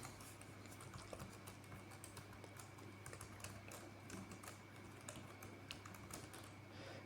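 Rapid typing on a computer keyboard while entering JavaScript code, continuous quiet key clatter over a steady low hum, no voices.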